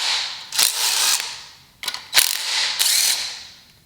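A ratchet wrench loosens a bolt during an engine teardown, with several loud, close bursts of rapid clicking separated by short pauses.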